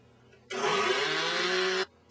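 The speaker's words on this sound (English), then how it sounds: "Step 3, blending." A kitchen blender whirs loudly for about a second and a half, blending milk with red pepper and other vegetables, starting and stopping abruptly with a steady motor drone and no talking.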